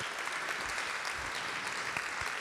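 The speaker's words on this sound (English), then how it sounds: "So you can start clapping now." Applause from the audience at a cultural launch event is dense and continuous, filling the whole stretch at steady volume, with faint voices underneath.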